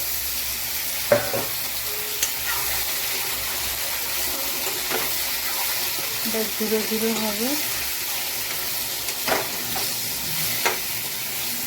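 Tomato, onion, turmeric and chili frying in a pan with a continuous close sizzle, occasional stirring clinks and scrapes, and a quiet voice speaking briefly over the cooking.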